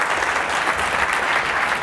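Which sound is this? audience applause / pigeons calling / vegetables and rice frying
audience applause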